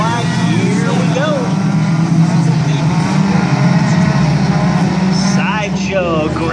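Race cars in an outlaw tuner main event roar off at a green-flag start; loud, sustained engine noise with rising whine-like pitches, and a track announcer talks over it.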